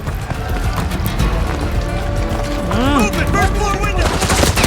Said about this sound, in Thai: พกปืนกลเลยนะ